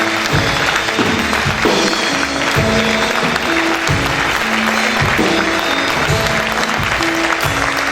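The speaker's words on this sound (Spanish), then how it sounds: "Fuerte el aplauso al Señor Jesús." Sustained applause rises from a church congregation praising Jesus, continuous clapping blended with loud worship music chords underneath.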